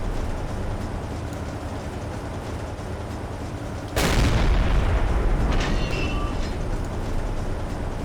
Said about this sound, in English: Okay, they're shooting star shells.